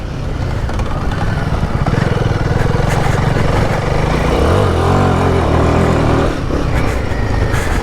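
A Royal Enfield Himalayan 450 ridden hard on an expert off-road trail with off-camber corners, its single-cylinder engine loud and close, thrumming continuously with shifting revs and no talk over it.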